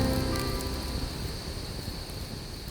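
Steady rain falling outdoors with wind on a raw, chilly March day, a continuous hissing wash of drops with no distinct gusts or other sounds.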